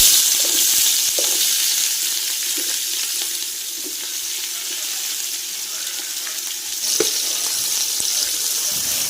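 Whole spices for chicken biryani fry in hot oil, giving a steady, loud crackling sizzle from close by that carries on throughout with no talk.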